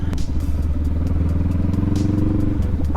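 A motorcycle rides over gravel, its engine a loud, close, pulsing rumble with a rough, clattering texture that holds steady throughout.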